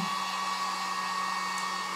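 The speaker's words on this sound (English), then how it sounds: "We're going to hit this with the dryer real quick." A hair dryer blows on a craft door hanger with a constant, close whirring hum that holds steady the whole time, with no talking.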